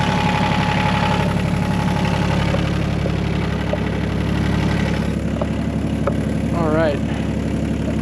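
A John Deere tractor engine idles after a cold start in snowy weather, a steady low rumble running throughout at close range, with brief speech over it.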